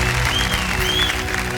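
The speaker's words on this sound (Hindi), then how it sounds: "बधाई आपको, जोरदार तालियां बज जाएं इनके लिए।" A TV quiz show studio audience applauds a contestant, producing a steady, dense wash of clapping with no break that is loud and close across the whole moment.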